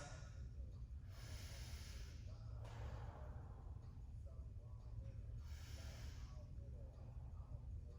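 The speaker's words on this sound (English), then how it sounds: "A couple deep breaths." Two slow, deep breaths rise and fall during a pause between lunges in a fitness workout, close but soft against a low, steady background hum.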